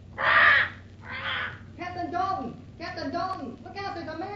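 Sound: bird squawking, radio drama sound effect

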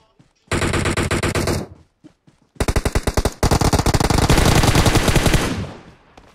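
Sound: gunfire in the video game PUBG Mobile

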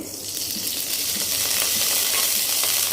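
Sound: oil and cumin sizzling in a kadai

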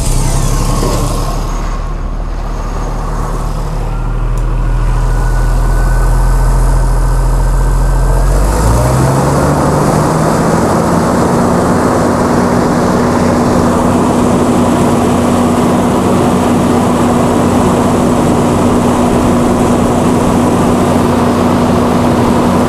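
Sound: Chrysler Slant 6 engine generator starting and running

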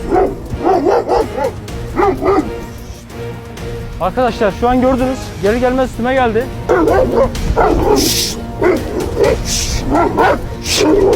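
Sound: Kangal dog barking at an approaching person

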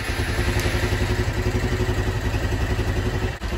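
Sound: motorcycle engine starting

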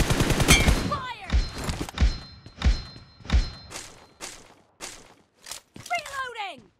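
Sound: gunfire in the video game PUBG Mobile

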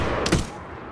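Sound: sniper rifle headshot in Medal of Honor video game

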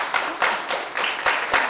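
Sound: audience clapping

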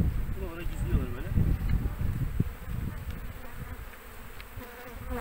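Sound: honeybees buzzing around a beehive

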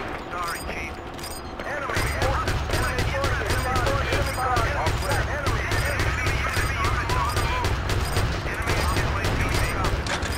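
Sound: gunfire in the video game Battlefield 2

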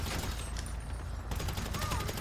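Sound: special carbine gunfire in GTA 5 Online video game

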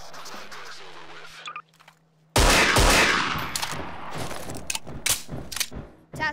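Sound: gunfire in a video game

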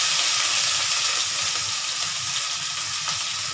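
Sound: garlic and onion frying in pan

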